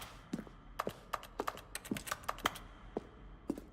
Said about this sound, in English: Each sound is a mix of keyboard stroke and a synthesized tone.